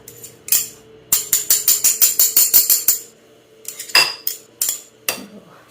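Avocado mashed with a spoon in a bowl for guacamole gives a quick run of about a dozen sharp metallic clinks and scrapes, followed by a few looser knocks, close and fairly loud with no talk.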